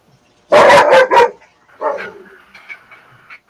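A dog gives a burst of three loud, sharp barks close by, then after a pause lets out softer yelping and whining sounds that trail off.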